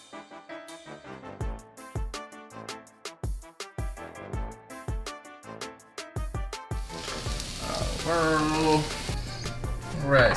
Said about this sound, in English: Cook these down for about 5 minutes, and then we'll have some delicious new potatoes.